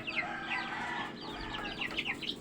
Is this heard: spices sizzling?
no